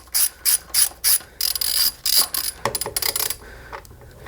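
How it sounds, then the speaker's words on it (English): A hand ratchet loosens a 5mm Allen head bolt under the seat of a 2017-2020 Honda Grom motorcycle. It gives off four distinct clicking bursts, then a longer run of quick ratcheting clicks, close and loud, with no talk. "It's going to be a bolt, which is a 5mm Allen head."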